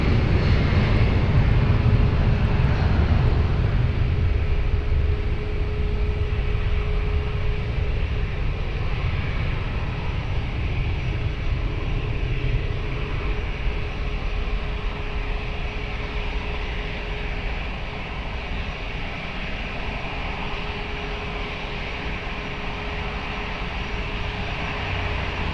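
An airliner takes off from runway 20 at Lisbon Airport, a steady loud engine roar with a sustained whine, heard from a distance and slowly fading.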